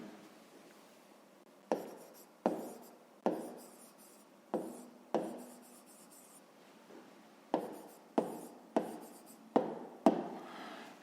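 Pen strokes writing out the answer to a fifth-grade maths exercise on crop yield, heard as a dozen short, close scratchy bursts with pauses between them, no talking.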